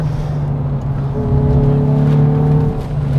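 A Hyundai i20 N hot hatch engine drones loud and close from inside the car on a track run, pitch dipping and recovering around a gear change, with no talking.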